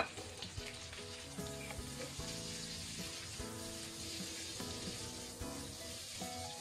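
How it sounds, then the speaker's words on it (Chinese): Cowpeas stir-fried in a hot wok give a steady sizzle, with the spatula scraping and clattering against the metal again and again throughout. "翻炒均匀"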